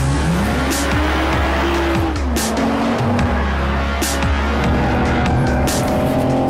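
A BMW 4 Series Coupé oversteers on a track, its tires squealing loudly in long wavering wails over a sustained, revving engine drone, close and continuous throughout.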